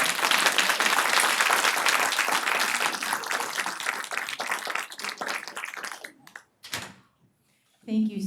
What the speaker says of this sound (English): let's just give our panelists a round of applause